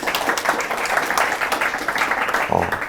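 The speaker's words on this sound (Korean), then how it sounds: "좋은 발표 진행해 주신 박소희 숭실대 연구교수님께 다시 한번 큰 박수 부탁드리겠습니다." An audience at a seminar on foundation model security applauds after a presentation, a thick, continuous clatter of hands with a voice briefly heard toward the end.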